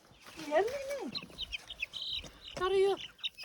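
Chicks and hens in a village yard, with rising chick peeps and quick clucking calls close by, several overlapping in short bursts, and a voice faintly in the background.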